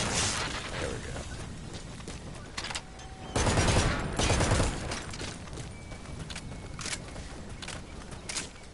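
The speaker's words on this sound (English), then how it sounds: "Yeah, these machine guns are really nice." Rapid machine gun bursts ring out in the Metal Gear Solid V: The Phantom Pain video game, dense crackling volleys close and loud, with a heavier burst midway and scattered sharp shots between.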